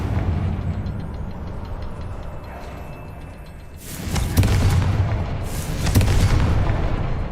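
A Confringo explosive spell detonates in Hogwarts Legacy, giving two loud, heavy booming blasts with crackling debris over a rumbling game backdrop.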